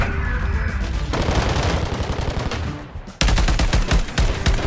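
Dense rattling gunfire and a heavy grenade blast in a video game, continuous and loud, with a sudden sharp burst near the end; no voices.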